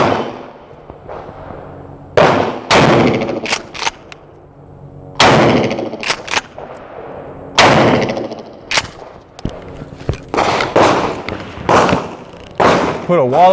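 A Mossberg Shockwave shotgun fires Aguila mini shell slugs outdoors at a range, about eight loud, sharp blasts spaced a second or two apart, each with a short ringing decay, with some brief talk between shots.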